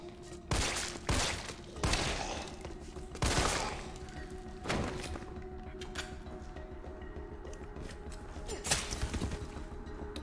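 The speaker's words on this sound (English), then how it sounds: "I just don't know whether I'm going to get on with this burst fire gun." Burst-fire gun shooting in Resident Evil 3 Remake, with several short, punchy bursts of gunfire spaced a second or two apart over a steady low game ambience and scattered thuds.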